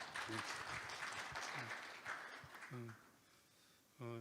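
An audience at a forum on hydrogen-industry R&D applauds as a presenter takes the stage, a moderate steady clatter of clapping that tapers off, with a voice speaking briefly at points.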